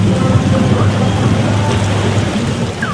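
Rain falling steadily, a dense continuous hiss with low rumbling underneath, loud and close throughout.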